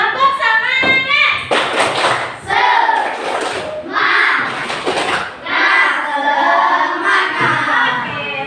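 A primary school class claps a rhythmic spirit clap together, with bursts of sharp claps and thumps mixed with loud children's chanting and shouting, repeating in lively phrases.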